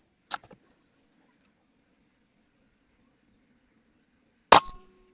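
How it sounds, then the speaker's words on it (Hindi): Two sharp, loud cracks from an air rifle firing pellets, one near the start and one toward the end, separated by quiet with a steady high insect-like hiss in the background. "थर्ड शॉट भी हो गई है दोस्तों फोर शॉट्स हो चुकी हैं"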